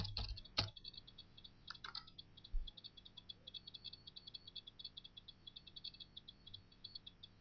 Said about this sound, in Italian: digitare il nome utente e la password in vostro possesso